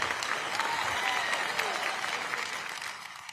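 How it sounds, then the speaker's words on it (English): Sustained applause from a large audience at the Orange County State of the County Address, a dense, even wash of clapping that holds steady and tapers slightly toward the end, with no voices over it. "Please join me in giving the Orlando Taiko Dojo and Opera Orlando another round of applause"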